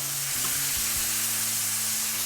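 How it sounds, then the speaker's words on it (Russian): Meat sizzles steadily in a hot frying pan, a close, constant hiss with a few low knocks as pieces shift. "Сразу же должны услышать шипение, это значит, процесс уже запущен."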